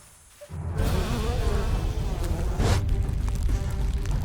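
A dense swarm of insects gathered in thousands buzzes loudly and steadily, close and continuous after a quiet opening, with the droning hum filling the whole stretch.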